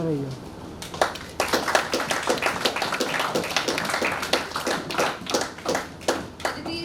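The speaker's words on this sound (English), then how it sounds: "Another round of applause for Aditi, everyone." A small audience at a young people's fiction writing workshop claps steadily nearby, with a voice talking over the applause.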